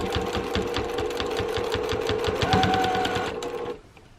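A sewing machine stitches and back-stitches the seam of a waterproof lined lunch bag, a close, fast rhythmic mechanical rattle running steadily for several seconds before stopping abruptly.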